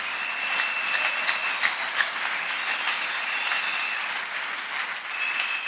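A church congregation applauds the word of the Lord during a sermon, a steady wash of dense clapping that carries at even volume throughout, with no voices over it.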